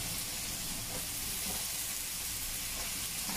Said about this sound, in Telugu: ఇప్పుడు దీంట్లో వంకాయ ముక్కలు వేసేసుకున్నాము.